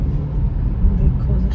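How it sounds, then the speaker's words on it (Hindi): Road traffic noise on a school commute, a steady low rumble of cars and buses passing nearby, fairly loud and continuous, with no talk in the moment. "oh the traffic"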